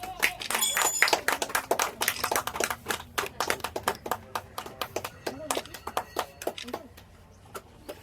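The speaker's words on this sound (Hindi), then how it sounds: "चलो ताली बजाओ जोरदार।" A group of people claps hands loudly. The sharp, dense applause at the start thins into scattered, uneven claps before stopping.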